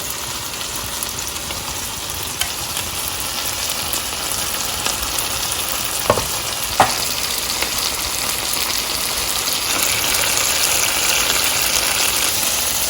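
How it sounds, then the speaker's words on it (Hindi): Chicken malai boti fries over high heat in a pan, giving a steady, full sizzle that holds throughout, with a couple of brief clicks partway through and no talking. "हाई हीट पे दूसरी तरफ से ब्राउन करेंगे"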